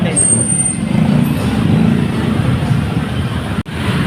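Rush-hour road traffic with trucks idling and rumbling close by, a low engine drone throughout, a brief high air-brake hiss early on and a sharp click near the end.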